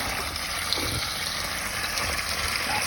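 Water pours steadily into a sump pit during a sump pump installation, a continuous close rushing gush with no pauses or talking.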